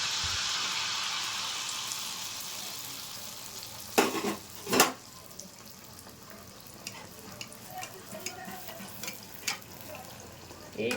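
Malpua batter fries in hot oil with a continuous close crackling sizzle, broken midway by a couple of sharp utensil knocks and scattered light clinks against the pan.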